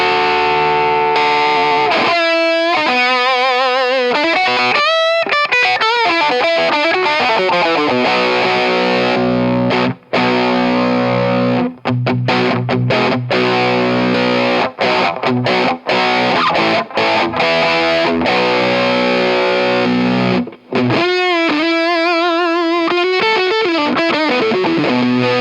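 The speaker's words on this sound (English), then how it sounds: "you can boost the overdrive signal, and it gets pretty distorted." A guitar through a Mythos Susmaryosep overdrive pedal with the boost engaged sounds heavily distorted, with loud sustained chords and choppy muted stabs broken by short clipped gaps. No voice is heard.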